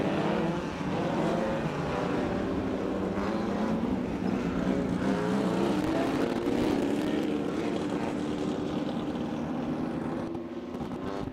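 Race cars rolling out onto a racetrack at a live event, a steady broad engine drone that holds loud and continuous throughout, with no distinct passes or speech.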